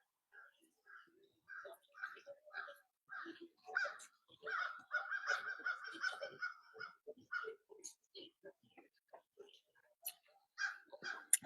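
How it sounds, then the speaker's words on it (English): A murder of crows caws repeatedly outdoors, harsh calls in irregular bursts, some overlapping, moderately distant, with a few softer bird sounds between and quiet talk nearby. "The crows approve."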